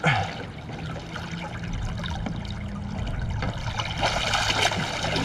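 A 19-inch sheepshead slips from a hand back into the water beside a piling, with continuous close trickling and sloshing water throughout and a slight rise toward the end.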